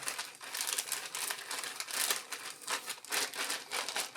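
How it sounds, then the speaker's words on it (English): A plastic bag holding soaked paper towels and cantaloupe seeds crinkles continuously while being sealed by hand: close, busy rustling in uneven bursts with no voices. "you want to make sure that your bag is sealed properly"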